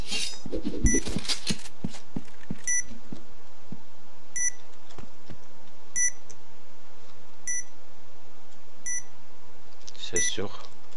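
Bomb planted in the PointBlank shooter game, beeping at an even pace: short, high, evenly spaced bleeps, with brief bursts of game noise at the start and end.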